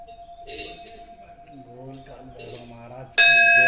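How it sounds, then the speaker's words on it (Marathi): A temple bell at the Kalbhairav temple gives a faint ringing tone while people talk, then is struck hard near the end and rings out loud and bright. "माऊ बेल वाजवते."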